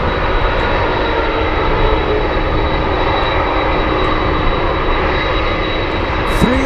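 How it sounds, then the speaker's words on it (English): A Cathay Pacific cargo jet taxis across the runway at Anchorage airport, a continuous broad engine rumble and hiss with a faint steady high whine, fairly close and even in level, with brief talk near the end. "And it's moving, it's crossing the runway."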